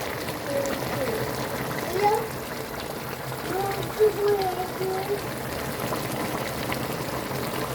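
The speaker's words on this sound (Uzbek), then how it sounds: "Juda chiroyli qaynayapti." A pot of Uzbek plov (osh) bubbling steadily on the stove, a soft continuous simmer heard up close with occasional small pops, while someone talks quietly over it.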